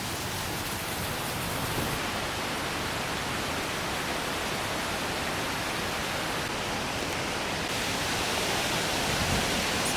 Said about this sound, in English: It's like a tiny little waterfall there.